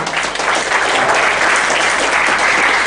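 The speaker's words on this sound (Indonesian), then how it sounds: "Give applause dulu untuk Ko Felix." Audience applause at a seminar and talkshow, a dense, steady wash of many hands clapping together, loud and continuous throughout with no voices rising above it.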